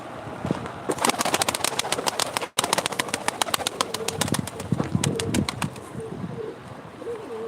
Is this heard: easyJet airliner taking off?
no